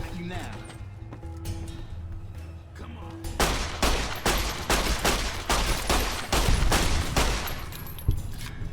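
Gunfire in the video game Fallout New Vegas: after a quieter start, a rapid run of loud, evenly spaced shots lasts several seconds and then stops, with a voice talking underneath.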